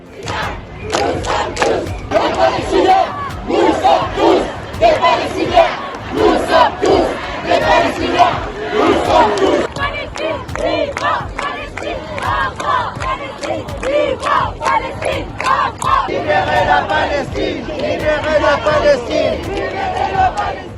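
Rhythmic chanting of slogans by a large crowd of protesters at a pro-Palestine demonstration, loud and close, with repeated call-and-response bursts rising and falling throughout.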